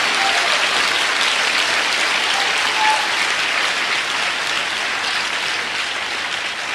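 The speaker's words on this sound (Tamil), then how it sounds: "நல்லா ஓங்கி கைத்தட்டுங்க" A church congregation at a night prayer service claps loudly in a thick, sustained burst that stays strong and even for several seconds, then eases slightly toward the end.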